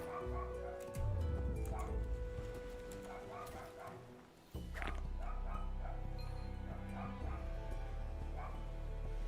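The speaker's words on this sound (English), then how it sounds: "Also, dogs barking in the background." Dogs bark, yip and whimper in the background of a house, quiet and somewhat distant, in short repeated bursts over a steady low indoor hum.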